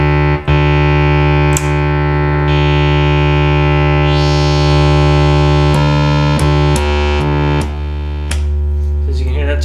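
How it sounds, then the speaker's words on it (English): A Minimoog synthesizer sustains a loud, continuous harmonic tone as its oscillators cycle through their waveforms, with brief clicks and shifts in timbre between settings and no talk over it. "Let me go through each oscillator right quick, and I'll show you that they all are working."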